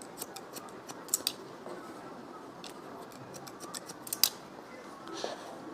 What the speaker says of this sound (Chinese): 劉海區所有的頭髮就拉到最後一片的位置上修剪